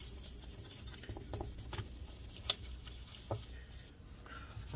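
A paper towel soaked in rubbing alcohol wipes adhesive residue inside a mid-2015 15-inch MacBook Pro A1398 during a battery replacement. The rubbing is soft and close, with scratchy strokes and a couple of small clicks.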